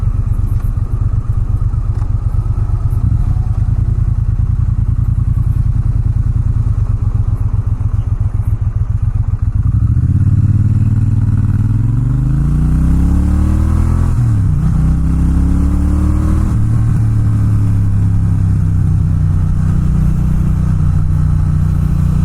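A Triumph Bonneville T120 Gold Line motorcycle engine under way, loud and close. It holds a steady low rumble, then revs climb and shift through several rising sweeps as the bike accelerates.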